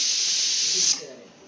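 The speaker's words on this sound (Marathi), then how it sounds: "चला तर आता आपल्या इथे कुकरच्या शिट्ट्या पण व्हायला झालेल्या आहे" A pressure cooker's whistle shrieks as it vents steam during home cooking of English-breed chicken, a loud sustained hiss that cuts off abruptly and fades into quiet room noise.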